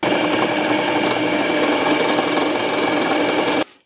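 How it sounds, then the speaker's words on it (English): Continuous high-speed whir of a small drill boring a 2.5 mm hole into a metal counterweight, loud and steady for several seconds before cutting off abruptly, with no talk. "Let's drill the two and a half millimeter hole and then let's tap the thread."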